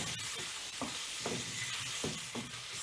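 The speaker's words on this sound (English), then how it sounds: "And then I stir it." Spices including red chili, mango powder, cumin, mustard seed and salt sizzle in a hot frying pan, a constant hiss broken by soft, repeated scrapes of stirring.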